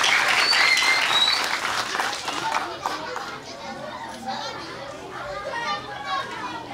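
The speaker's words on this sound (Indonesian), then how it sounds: "Kita berikan aplaus meriah untuk anak-anak kita semua." Applause for Sunday-school children at a Toraja Church ordination service: a burst of clapping mixed with children's chatter and an adult voice, fading somewhat before rising again with more voices.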